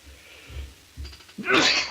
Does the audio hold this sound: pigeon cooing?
no